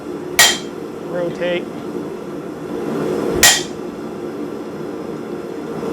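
Two sharp hammer blows ring out, spaced about three seconds apart, while a blacksmith forges a square nail; a brief clink of metal falls between them, and a voice speaks briefly.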